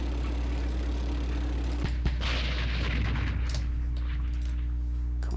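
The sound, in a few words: artillery ordnance explosions in video game Campaign Series West Front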